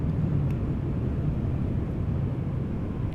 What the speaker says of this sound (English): Transavia 737-800 arriving from Preveza